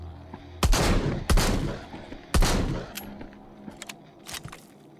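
Gunshots in the VR zombie game Arizona Sunshine: three loud, close cracks with booming tails spaced about a second apart, followed by a few fainter clicks and softer shots.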